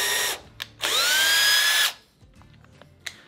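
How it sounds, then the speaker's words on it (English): A power drill pre-drills screw holes in a wooden frame for a large floor mirror: a brief whine, then a longer, louder run that rises in pitch before cutting off into quiet room tone. "it really gives it a nice look if you pre-drill your holes"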